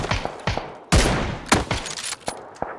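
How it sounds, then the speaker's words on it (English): Rapid sharp gunshots crack in PUBG during an attempt to snipe an opponent, a loud burst of several close reports in an uneven rhythm, each ending in a short decaying tail. "Try to snipe him."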